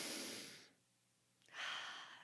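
Two slow, deep breaths heard alone and up close: a long airy inhale or sigh fading out, a pause of near silence, then a second strong breath rushing back in.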